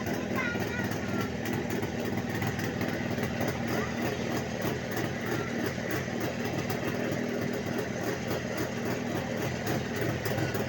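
A Jawa 638 motorcycle under restoration runs at a steady idle close by, a continuous even engine drone with no breaks.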